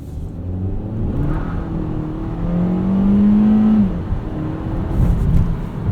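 2020 Kia Soul GT-Line with 1.6 turbo and 7-speed DCT accelerating, heard from inside as a rising engine drone with a climbing tone, then a brief dip at a gear change before pulling again.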